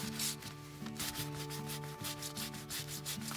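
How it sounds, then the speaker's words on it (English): Gloved hand burnishing freshly dyed, still-wet leather with water-based dye, giving a steady close rubbing and sanding-like friction sound in repeated strokes, loud and near with no talk. "I'm gonna take the side of my glove and burnish that while it's still wet."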